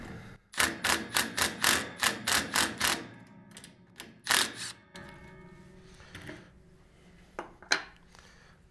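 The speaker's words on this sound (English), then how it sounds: "So now we just loosen up one of these bolts." A ratchet loosens a bolt while a HAM/CB antenna is being mounted, sounding as a quick series of about nine sharp, close clicks, then a few scattered knocks and taps, with no voices.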